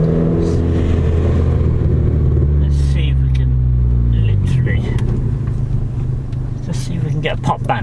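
A Ford Fiesta Zetec S Mk7 engine revs up loudly and then drops back, a deep rumbling roar that rises and falls, heard from close by with voices talking.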